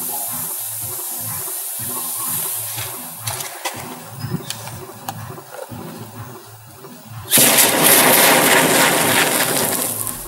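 A lithium-ion phone battery explodes: a sustained hiss and roar bursts out suddenly and stays loud, following a stretch of crackling, popping and sizzling.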